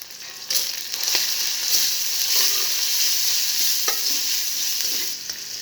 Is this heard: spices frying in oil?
yes